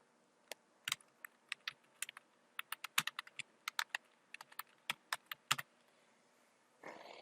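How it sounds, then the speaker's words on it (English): Bursts of typing on a computer keyboard while entering a publisher's name into a citation, with quick irregular clusters of clicks close by, no talking, and a short shuffling rustle at the end. "I'm going to type that in."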